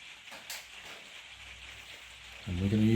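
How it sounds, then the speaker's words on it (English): Steady rain falls outside during a model glider build on a glass surface, a soft broadband patter that runs quietly throughout, with a louder low rumble joining in over the last half second. "you can probably hear it's raining outside"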